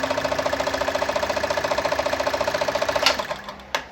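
Kayser model 138 sewing machine stitching stretchy fabric with a short stitch length. It gives a rapid, even mechanical chatter for about three seconds that stops abruptly, followed by a couple of light clicks.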